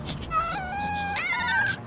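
A drawn-out, whiny cat meow in the video game Little Kitty, Big City, with a wavering pitch that rises near the end, heard clearly over a soft background hum.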